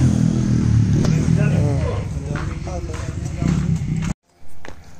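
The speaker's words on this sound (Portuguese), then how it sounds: "A moto do Pinão vindo aí, ó" A Honda Titan 150 fuel-injected motorcycle with a 190 kit, running on ethanol, hums and revs nearby, growing louder as it approaches, with voices talking over it before a brief drop to near silence.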